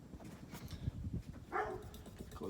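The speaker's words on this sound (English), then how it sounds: "the dog is barking" A dog barks a few times in the background of a room where a remote-controlled Hunter Studio Series ceiling fan is being handled, the barks short and moderately near amid low ambient noise.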